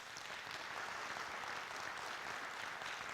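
Faint, distant-sounding applause from the audience at a 2019 federal election candidates' debate hosted by the Chilliwack Chamber of Commerce, an even wash of clapping that lasts the whole three seconds.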